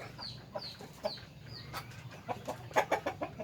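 Free-range laying hens on a farm cluck in short repeated calls, a few near and loud, others farther off, with rising squawks toward the end.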